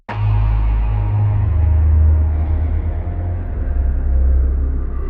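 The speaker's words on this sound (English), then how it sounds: "say we go to the bass, the Radioactive Mordor." Synth bass patch called Radioactive Mordor sustains one loud, deep, rumbling note with a gritty upper texture for about five seconds, heard alone.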